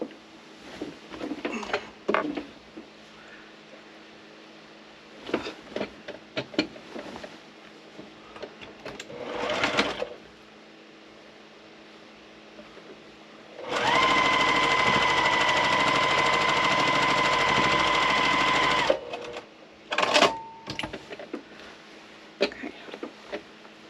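A sewing machine stitches fabric in one steady burst of fast mechanical whirring lasting several seconds, set between quieter handling noises and brief taps.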